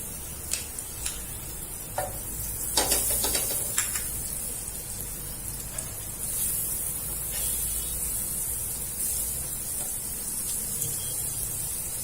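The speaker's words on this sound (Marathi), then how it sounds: "तवा तापलेला आहे त्याच्यावरती आपण आता बटर टाकूया" Butter melts on a hot iron tawa (griddle) while a spicy masala pav is prepared, giving a soft, steady sizzle with occasional light ticks and clicks, quiet and close.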